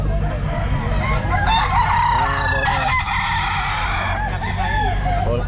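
Bullstag roosters crow at a busy Grotto pet market, several drawn-out calls rising over a constant crowd din, with clucking fowl and other market noise mixed in throughout.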